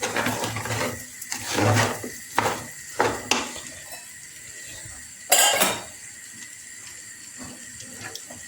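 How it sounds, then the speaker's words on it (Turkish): Boiling water poured into a pot of sautéed ingredients for green lentil soup, a gushing splash that comes in bursts between clinks of the pot and utensil, with sizzling fading underneath, close by. "Kaynar suyunu takıyorum üzerine."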